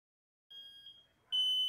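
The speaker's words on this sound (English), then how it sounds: "checked some smoke alarms" A high, piercing electronic chirp sounds, fades, then returns louder and sustained, like a smoke alarm going off nearby.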